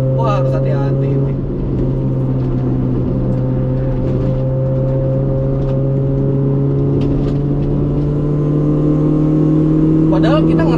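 A racing car on a track braking and turning left, its engine a loud, steady drone with layered tones that hold through the clip and rise slightly in pitch near the end.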